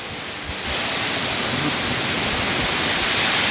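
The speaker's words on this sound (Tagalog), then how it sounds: "Lakas ng hangin." Strong typhoon wind in Samar roars steadily into the microphone, a loud, continuous rushing noise that swells after the first moment and holds without pause.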